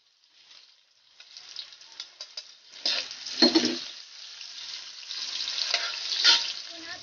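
Onions hit a pan of browned garlic for pork menudo, a soft crackling sizzle that builds into steady frying with scattered pops and stirring scrapes.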